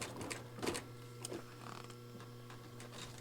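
A Juki sewing machine stitching through 16 layers of fabric, a steady motor hum with faint rhythmic ticking of the needle, fairly quiet and close.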